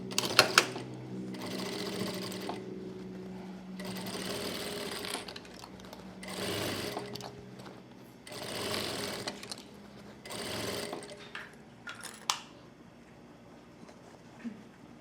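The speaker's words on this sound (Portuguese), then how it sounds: "Eu vou encaixar aqui na minha máquina e vou costurar essa volta todinha." A sewing machine stitches fabric lining in several long runs of rapid mechanical whirring, separated by short pauses, with quiet talking between the bursts.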